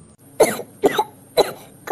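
Three short dry coughs in a row, close by, evenly spaced, with quiet between them.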